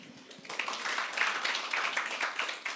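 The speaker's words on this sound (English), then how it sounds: "A round of applause for Nana." Audience applause at the launch event for the African Insights 2026 flagship report, a soft, diffuse patter of clapping that begins after a brief quiet moment and continues steadily, moderately distant, with no talk over it.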